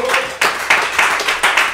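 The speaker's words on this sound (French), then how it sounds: "Vous pouvez l'applaudir encore une fois." Audience applauding a speaker after a conference on Dalí at the Centre Pompidou: close, loud clapping in uneven bursts that swell and fade.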